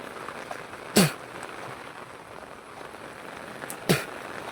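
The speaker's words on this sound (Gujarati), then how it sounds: "વરસાદ પાછો ચાલુ થઈ ગયો છે" Steady rain falls on the village of Datardi as a soft, even hiss, broken by two sharp knocks about three seconds apart.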